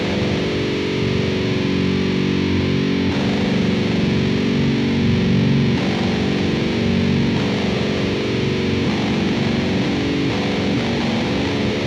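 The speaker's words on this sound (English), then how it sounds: "I will first play with distortion" Kraken Octa eight-string electric guitar played through heavy distortion, a thick, sustained, saturated wall of chords ringing steadily for about twelve seconds, loud and alone.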